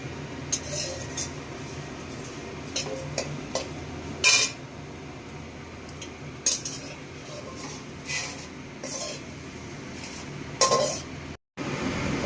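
Fried flattened rice is scooped out of a pan, giving scattered metallic scrapes, clinks and taps of utensil against cookware at a moderate, irregular pace over a quiet kitchen background.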